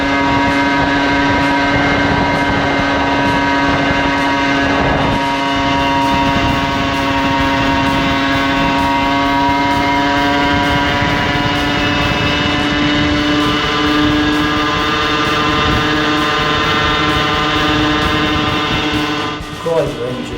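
A Kreidler moped engine with revised gear ratios and tuned electronic ignition runs steadily throughout, a loud continuous buzzing drone that holds an even pitch before easing off near the end.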